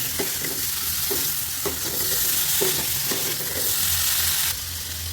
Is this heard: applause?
no